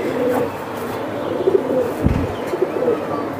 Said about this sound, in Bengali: এটা হচ্ছে হ্যামার কবুতর